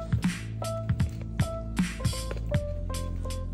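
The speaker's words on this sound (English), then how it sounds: "We'll pour some water in the bag" Water splashes and drips into a plastic anode bag in short wet bursts, with squishy crinkling and a few tonal ringing notes underneath.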